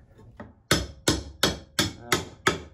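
A hammer strikes a wooden plate being fitted under a main carrying beam in a house, six sharp, evenly spaced blows ringing out close and loud after a couple of lighter taps.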